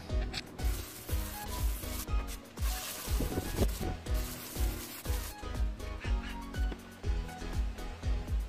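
Soap is scrubbed by hand over a motorcycle rim, making quiet, repetitive rubbing and swishing strokes in a steady rhythm.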